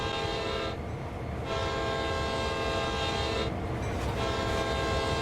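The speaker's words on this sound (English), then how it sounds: "We could have a listen at the horn as it goes by." A freight train horn sounds loud and sustained as the train passes in Train Sim World 2, on the Sand Patch Grade, a rich multi-tone blare over rumbling rail noise with two brief gaps.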